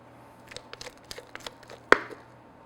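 Pumpkin cranberry bread batter being mixed by hand as flour is folded in, a close run of soft scraping, clicking spoon-against-bowl taps, and one sharper knock near the end.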